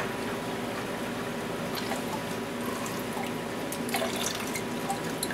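Coolant glugs and splashes out of a jug into a 2001 GMC Sierra's cooling system, a steady close pour with dripping spatters throughout and no speech.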